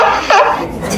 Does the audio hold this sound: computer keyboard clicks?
no